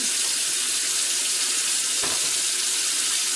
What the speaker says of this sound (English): first we're going to start by turning on your faucet to the hottest setting it'll go to